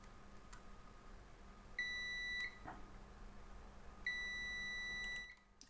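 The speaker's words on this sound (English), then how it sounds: "While I've got the continuity tester," Two sustained electronic beeps from a continuity tester, each lasting about half a second, sound a couple of seconds apart during electronics work on a Nintendo Game Boy, clear and close against a quiet background.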